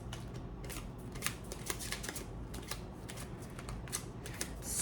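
A new deck of cards is shuffled with quick, crisp riffling flutters and soft slaps as cards spill out, close and fairly quiet, with no voice.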